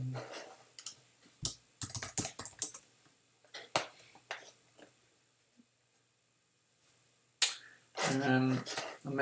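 Computer keyboard typing, a scatter of light, uneven key clicks and taps near the microphone, with a person talking at the end.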